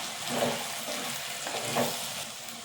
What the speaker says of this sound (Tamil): சுண்டைக்காயிலே போட்டு நம்ம வதக்கி எடுத்துக்கலாம்